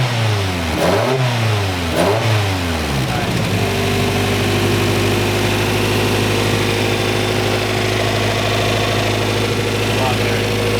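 Nissan 350Z with a new exhaust, loud and close: two sharp revs rise and fall, then the engine settles into a steady, deep, throaty idle.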